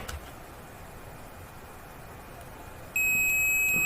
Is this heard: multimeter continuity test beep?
yes